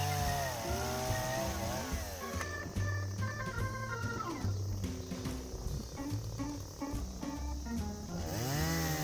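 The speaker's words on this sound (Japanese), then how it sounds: "このチェーンソーはかなり軽い機種なんですが、腰を落としたり中腰になったりして切らなきゃなんないのでかなり疲れます。" A lightweight chainsaw cuts thin firewood held steady underfoot, its engine whining and revving up and down through the cut, close and continuous.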